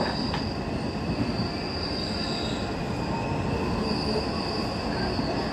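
Interior of a moving KRL electric commuter train of the JR 205 series on the Manggarai–Cikarang line, a steady rumbling roll of wheels on rail with faint high squeals, constant and close.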